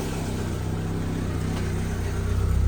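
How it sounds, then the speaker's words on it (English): A 1986 Honda Civic wagon engine idles smoothly nearby, a low, steady, quiet hum that swells slightly near the end, with no voices over it. "Now it's idling really nice."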